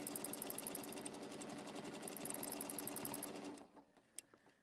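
A sewing machine stitches a straight line with a fast, even rapid-fire hum, then stops abruptly near the end, leaving a few quiet clicks and a brief sharp tick.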